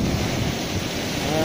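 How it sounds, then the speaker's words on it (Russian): Sea waves wash steadily onto a storm-ruined beach at Flamingo beach in Lazarevskoye, a continuous surf roar mixed with wind buffeting the microphone. "Еще волны."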